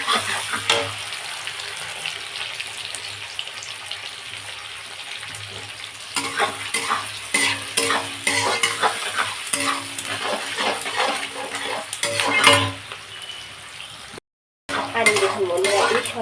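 Onions and slit green chillies frying in oil for a mutton dish, with a constant close sizzle broken by repeated spoon-on-pan scrapes and clinks as they are stirred, with one brief dropout near the end.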